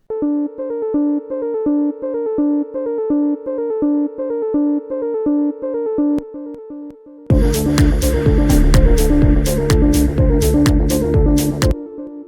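A synthesizer demo plays a repeating plucked melodic pattern, then a full beat with punchy drums and dense synth layers kicks in for the last few seconds.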